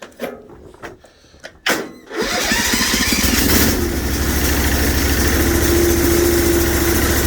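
A diesel 6HP engine on a Sears Suburban loader cranks after a few clicks and knocks, catches, and settles into a loud, close, steady chugging idle that runs on without pause.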